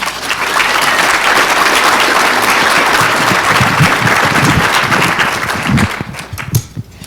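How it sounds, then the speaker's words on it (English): A large audience claps for panel members at a workforce and apprenticeship event, loud, full applause that holds steady for several seconds before thinning to a few scattered claps at the end. "So if you could join me in giving them a round of applause"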